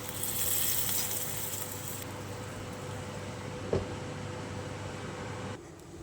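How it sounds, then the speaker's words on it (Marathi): Water poured into a pan of sautéed tomatoes hits the hot surface in a loud, steady hiss and crackle, close by. It eases to a softer sizzle with a small clank midway. "आता आपण यामध्ये थोडंसं अर्धा ग्लास पाणी घालून घेऊया"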